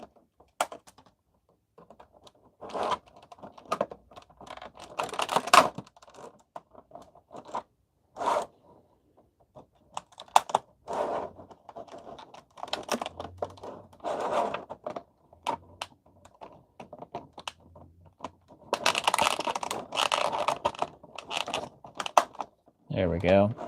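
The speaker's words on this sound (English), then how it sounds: "use these snips." Snips cut the packaging ties on a boxed horror-clown figure, making small scattered clicks and snaps. Plastic rustles between the cuts, and a person talks at times.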